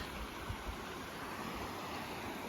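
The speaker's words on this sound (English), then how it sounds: "Okay, so I've arrived at Loomis Creek." Loomis Creek in South Kananaskis rushes along as a steady, broadband wash of flowing water, close and continuous, with occasional low rumbles of wind against the microphone and no talking.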